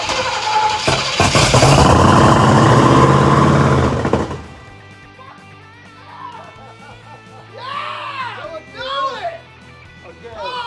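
A Pontiac Firebird engine being choked and started fires up and roars loudly for several seconds, then drops to a lower running note while excited voices shout and cheer over it.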